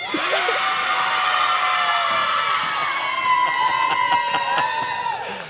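A crowd of girls at a high school girls' basketball game cheers and whoops loudly and continuously, with high-pitched shouts layered over a steady roar.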